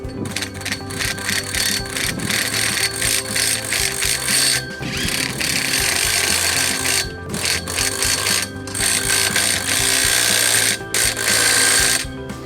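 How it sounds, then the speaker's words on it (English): A socket tool tightens bolts on a Gallagher Mega Anchor gate kit, giving continuous loud, close mechanical ratcheting and clicking with short breaks, and no talk. "We use the same socket we've used through the whole assembly to tighten up those bolts."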